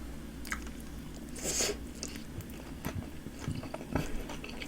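Someone eating spicy dumplings filled with meat, tofu and glass noodles, with soft close-up chewing and occasional wet bites and crunches, quiet and intermittent.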